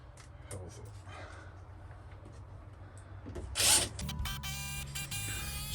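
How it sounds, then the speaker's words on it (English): A power drill drives 3-inch screws into wood while building a small outhouse-style shed, a steady motor whir with a sharper rising whine near the end, close by over a low background rumble. "So you'll see me go ahead and add our screws in."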